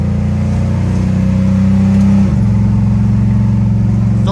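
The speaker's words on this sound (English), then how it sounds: "So you can see how nice and firm it shifts into second again." A 1967 Dodge Coronet with a 727 automatic transmission accelerates under part throttle, its loud, close engine drone dropping sharply in pitch as the gearbox shifts firmly into second and then pulling steadily on.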